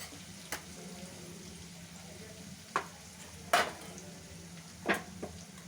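Spices and potatoes sautéing in a pan for a dry potato bhaji give off a soft, steady sizzle, quiet and close, broken by a few sharp clicks and scrapes from stirring.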